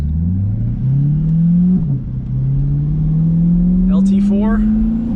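A 2020 C8 Corvette's 6.2-liter LT4 V8 with an 8-speed dual-clutch transmission accelerates hard from inside the cabin, a deep rising drone with a quick shift dip partway through, and a voice speaks briefly near the end.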